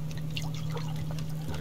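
Water pours steadily in the survival game Subsistence, a continuous splashing trickle with small drips and bubbles over a low steady hum.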